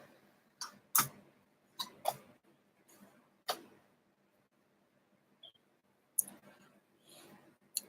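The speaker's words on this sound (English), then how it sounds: "So I'm going to place cards face down" Playing cards laid face down on a table during a solo tabletop role-playing game, a handful of soft, sharp snaps and taps spaced irregularly in a quiet room.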